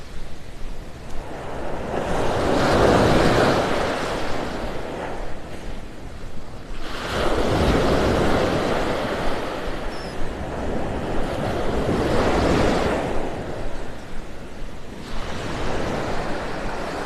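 Ocean waves surge and crash onto a beach in North Naples, Florida, in slow, recurring swells, each rolling in loud and broad before easing back, with wind across the microphone.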